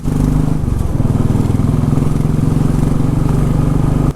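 A motorcycle engine labors steadily and loudly climbing hairpin bends on the Agumbe Ghat, its low rumbling drone close and continuous, with a brief dip in pitch early on before pulling on.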